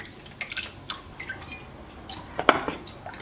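Liquid sloshes gently while a utensil stirs rye sourdough starter into water, with soft clinks and taps against a container, close by and fairly quiet.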